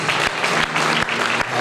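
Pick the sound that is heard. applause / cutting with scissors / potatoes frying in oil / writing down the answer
applause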